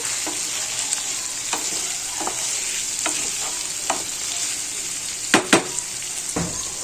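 Chicken fry being stirred in a pan, a constant sizzle of frying under scattered scraping and clinking strokes of the spoon, with a few louder knocks near the end.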